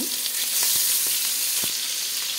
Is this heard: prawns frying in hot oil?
yes